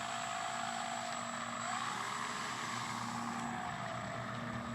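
Steady electric propeller whine from an RC Dynam Tucano model plane taxiing on the ground at half flaps, a constant droning buzz at even pitch that holds for the whole stretch.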